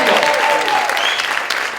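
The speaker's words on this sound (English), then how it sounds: "Give yourselves a round of applause for that." An audience at a real estate keynote event in Sacramento, California applauds, with dense, steady clapping filling the room at close range, alongside faint whistles and cheers.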